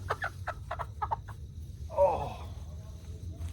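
A recovering hen with a healed broken leg clucks in a quick series of short, close calls, followed by a softer drawn-out vocalization over a low background hum.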